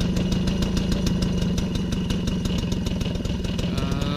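A 1993 MBK 51 Salsa moped's small two-stroke engine runs at a steady idle close by, with a rapid, even buzzing putter and no speech.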